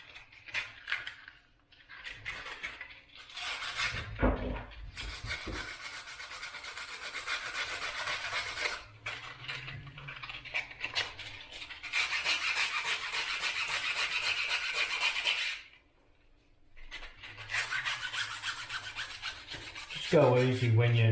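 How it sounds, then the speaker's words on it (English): Steady rasping strokes of 120 and 240 grit sandpaper rubbing back and forth on a pliable quill, close and fairly quiet, in long runs broken by brief pauses. "Go easy when you're sanding it, because it is very pliable."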